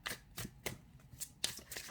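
Tarot cards are handled and drawn from a deck in a series of quick, soft papery flicks and riffles, faint and close, repeating about every half second.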